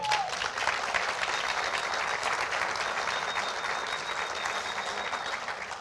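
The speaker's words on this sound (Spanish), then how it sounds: "aplauda al Señor" A church congregation applauds at a Spanish-language sermon, a steady dense wash of clapping that holds evenly throughout with no pauses.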